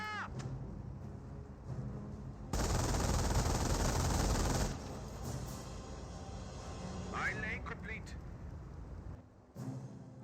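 A .30 cal machine gun fires in a Company of Heroes match: a dense, loud two-second burst of automatic fire stands out over the continuous rumble of battle and vehicles, with voices underneath.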